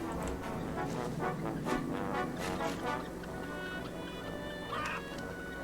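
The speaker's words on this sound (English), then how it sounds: "There's a bunch of chickens." Chickens in the video game Wallace and Gromit's Grand Adventures cluck and squawk in a busy, overlapping flurry of honking bird calls that fills the scene at steady loudness.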